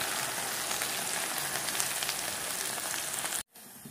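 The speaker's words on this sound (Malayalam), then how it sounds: "അതിലേക്ക് നമുക്ക് വെണ്ടക്ക ഇട്ട് കൊടുക്കണം" Okra fries in hot oil with a steady, loud, dense sizzle that holds evenly for about three seconds, then cuts off abruptly before quieter background resumes.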